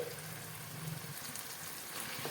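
Yogurt-marinated chicken added to a pan of oil with sautéed onion, tomato, ginger and garlic, giving a steady, soft, close sizzle throughout.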